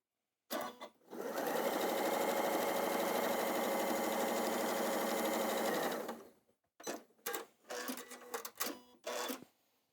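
A sewing machine stitching fabric blocks runs loud and steady for about five seconds, then gives several short bursts of stitching with brief pauses between them.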